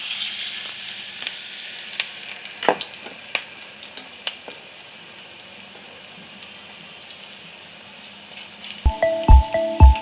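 Pakora made with narasingha leaves frying in hot refined oil gives a steady soft sizzle with occasional crackles and pops, ending in a few louder knocks and clatters.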